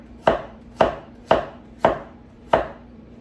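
A knife chops through ingredients for pozole on a cutting board: five crisp, evenly spaced thuds, close and alone.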